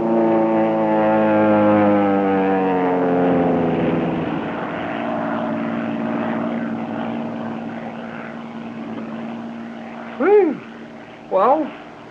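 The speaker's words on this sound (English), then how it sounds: "That plane is coming down awfully fast. Yes, it's coming right over us. Sounds like a power dive." A radio-drama effect of an airplane in a power dive: a loud, steady propeller and engine drone whose pitch sweeps downward over several seconds, then fades into a sustained roar, with two brief voice-like bursts near the end.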